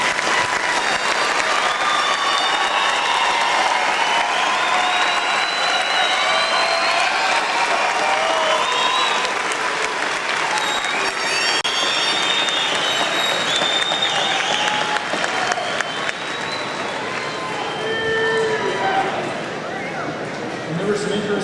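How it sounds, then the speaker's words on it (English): Sustained applause from a large university commencement audience, steady clapping that carries on for about twenty seconds with a few cheers mixed in. "Let's again acknowledge by a round of applause the class of 2008."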